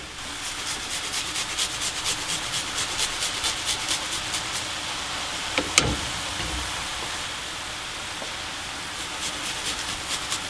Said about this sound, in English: I'm gonna grate a little bit of garlic in it, about 2 cloves will be enough, and ginger